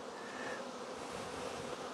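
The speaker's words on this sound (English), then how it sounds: "look at these bees" Bees bring pollen in, buzzing around a hive with several insects droning together at once, a dense, steady, close hum that fills the whole moment without speech.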